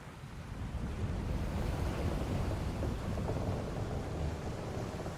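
Steady, heavy rush of rain and wind from a thunderstorm in Final Fantasy XIV, with a deep low rumble underneath, continuous and loud throughout, no voices.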